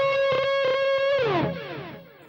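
Distorted electric guitar plays a short solo phrase from a song, repeated picked notes followed by a long bend sliding downward and fading out, loud and alone.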